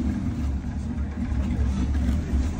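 An Oldsmobile Cutlass engine running steadily up close, a low, even rumble with a possible noisy pulley, continuous for a few seconds without speech.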